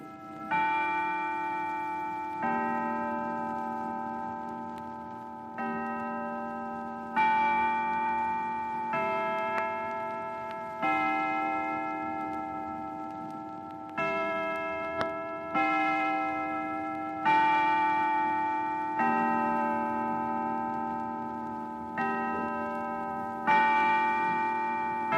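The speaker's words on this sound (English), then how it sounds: "the sweet song of the Faneuil Hall Westminster chime, which strikes on the hour every hour" Westminster chime bells at Faneuil Hall in Boston ring out the hour, a slow sequence of resonant tolls, each struck note swelling and decaying before the next, clear and unaccompanied.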